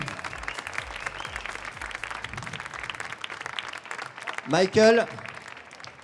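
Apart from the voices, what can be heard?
audience applauding the 20 Brewers Cup candidates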